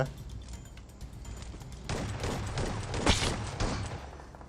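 Rapid bursts of gunfire in the mobile battle royale PUBG Mobile, a dense crackling fusillade that builds after the first two seconds over low rumbling game noise, with a sharp loud shot near the three-second mark.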